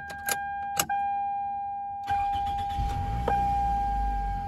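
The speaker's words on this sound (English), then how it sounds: "Go ahead and start it up." A 2004 Toyota Camry LE starts up after two brief key clicks, the engine catching with a rising rumble that settles into a steady, smooth idle close by.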